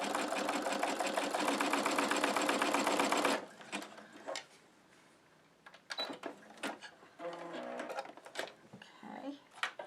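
Sewing machine stitching a zigzag for in-the-hoop embroidery, a loud rapid mechanical whirr for a few seconds, then stopping, followed by scattered clicks and handling noises with some talk.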